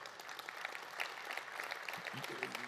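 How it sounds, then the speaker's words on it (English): Audience applause for Joe and Steve of Guaranteed Services from New Jersey at a business coaching conference, steady clapping throughout with a few brief voice sounds near the end. "Give them a round of applause"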